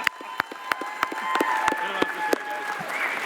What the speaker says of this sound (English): So please give us a round of applause